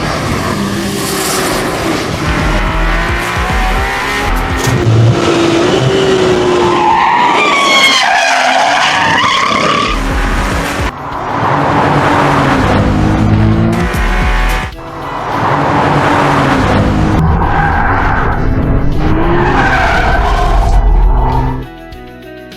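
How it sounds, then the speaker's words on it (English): Ferrari F80 prototype supercar driving hard, with loud tire squeals and skidding, engine roaring and rising in pitch between bursts, close and continuous with brief dips. "Take a look at this stunning car in action."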